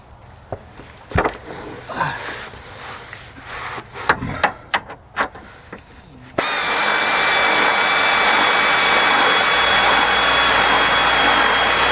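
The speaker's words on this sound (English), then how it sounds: "So perhaps in this situation I should go get the air ratchet," Air ratchet driving a bolt while connecting an engine chassis to a formula car body, starting abruptly after a few scattered clanks and running as a loud, steady, high-pitched whir to the end.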